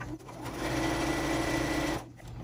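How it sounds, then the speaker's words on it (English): A sewing machine stitches cotton and flannel makeup remover pads with a steady, close whirring run of about a second and a half before it stops. "I'm just gonna sew all the way off."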